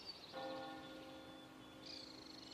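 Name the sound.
church bells ringing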